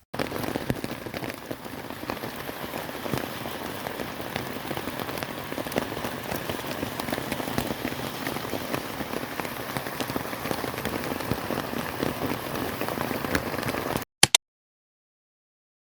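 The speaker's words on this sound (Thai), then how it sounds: "ฝนตก" Steady rain falls on the mountain at Phu Kradueng in Thailand, a dense, even hiss of drops on surfaces running continuously before cutting off abruptly near the end.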